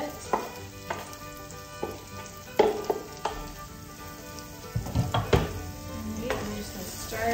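Minced garlic sizzles in hot olive oil in a pan while a utensil stirs it, with soft frying hiss beneath a few distinct clinks and scrapes against the cookware.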